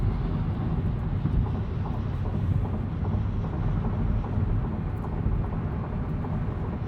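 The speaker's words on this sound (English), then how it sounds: "You hear a decent amount of road noise. Wind noise actually isn't too bad." Steady broadband road and wind roar inside a 2020 Hyundai Accent Limited cruising at 70 mph on a highway, a constant tire hum and rush with no talking.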